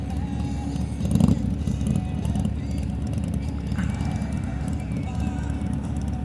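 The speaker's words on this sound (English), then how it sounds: "I won't hear it over my exhaust." Steady low motorcycle exhaust drone while riding out on the road, continuous and fairly close, with a brief louder surge near the start and wind noise over it.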